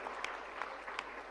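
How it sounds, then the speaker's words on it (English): An audience claps for speaker Anette Hellman at an international seminar on early childhood and family education, a steady, fairly soft patter of many hands with a few sharper claps standing out, and no voices. "Please give big applause to Anette Hellman"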